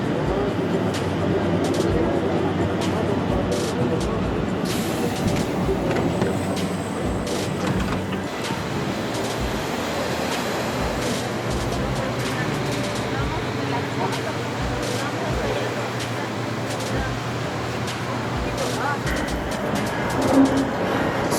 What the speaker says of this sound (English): It's the Mexico City subway.